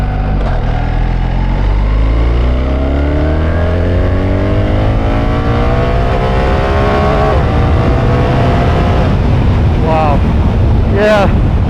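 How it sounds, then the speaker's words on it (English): A 2024 BMW R1300 GS motorcycle in dynamic mode pulls hard from second gear, its engine note climbing steadily through the revs before two or three quick automatic ASA gearbox shifts break the rise near the end, loud and up close against steady wind rush. "We're in dynamic, and we've got a bit of a run here, so we're just going to get on the gas."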